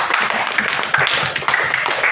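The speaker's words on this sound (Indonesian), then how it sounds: "Tepuk tangan semuanya." Classroom students clapping together in a short burst of applause, a dense, continuous patter of hand claps filling the room at moderate loudness with no talking over it.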